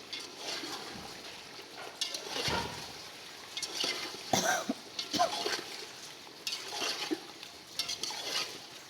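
Cut potatoes are stirred into hot oil in a pan for a gobi chicken dish, giving a soft, continuous sizzle broken by scraping spoon strokes and a few clinks against the pan, up close.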